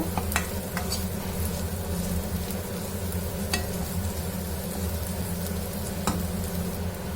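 Dry fish fries in a pan, hissing and sizzling evenly throughout, with occasional sharp clicks and pops from stirring, close by and with no talking.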